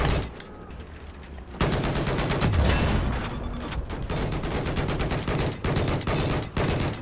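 Dense, sustained gunfire and explosive bursts from a Battlefield 4 match on PS4, a loud, continuous barrage of rapid shots that starts abruptly and keeps up throughout.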